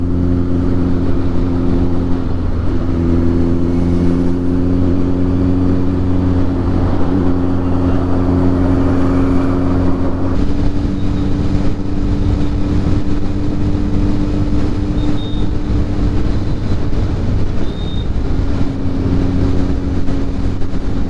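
Kawasaki Z900 2023 motorcycle fitted with a Mivv GP Pro aftermarket exhaust with the dB killer in, idling and revving in a loud, steady deep drone with a tinny edge and small shifts in pitch.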